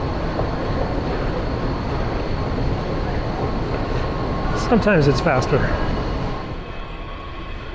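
A Washington D.C. subway train rumbles steadily through the station with high metallic screeches and squeals partway through, under people talking nearby.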